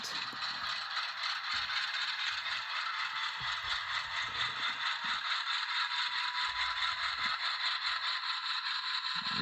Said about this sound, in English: Listen to that prime mover.